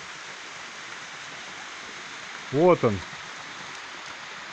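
A roughly 10-metre waterfall on the Dederkoy river gives off a steady, even hiss of falling water that fills the whole clip, while someone speaks briefly over it.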